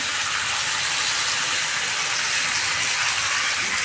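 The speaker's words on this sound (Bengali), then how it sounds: "জল দিয়ে দিয়েছি" Water gushes steadily into a pan of spiced potato and tomato curry, a continuous close hiss of pouring and bubbling with no break and no talk.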